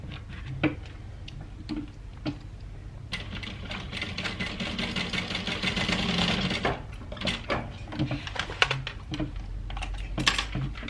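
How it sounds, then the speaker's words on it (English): A sewing machine stitches along the flap opening of a fabric handbag, giving a run of rapid mechanical ticking bursts with short pauses in between, close and fairly quiet, with no talking over it. "I've just stitched along that flap opening"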